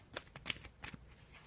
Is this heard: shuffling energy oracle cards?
yes